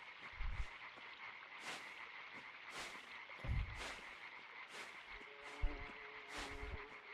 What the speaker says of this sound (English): I hear frogs.